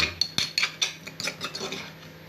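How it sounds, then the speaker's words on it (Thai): Red chillies, shallots and dried chillies pounded coarsely in a mortar for a Thai curry paste, with a quick run of sharp, close knocks and scraping taps that fade into quieter rubbing. "ตรงนี้เราจะโขลกไว้เป็นเครื่องแกงนะครับ ก็โขกหยาบๆประมาณนี้ครับ"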